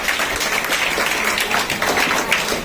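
Audience applause welcoming a nursing sister onto the stage at a Nurses Day event, a dense, steady wash of clapping that stays fairly loud and even throughout.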